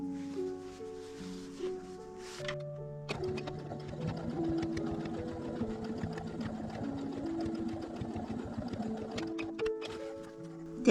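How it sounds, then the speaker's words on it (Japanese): A sewing machine runs steadily, closing the turning opening of a bag, with a close, continuous rapid stitching whir after a quieter start with a few tonal beeps, and no talk. "この返し口を ここ縫います。"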